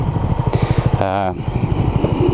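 A Honda CB250RS motorcycle runs on the move with a loud, close, pulsing single-cylinder engine throb throughout, with a rider's voice briefly over it.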